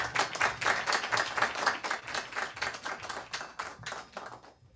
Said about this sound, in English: Maybe a round of applause again.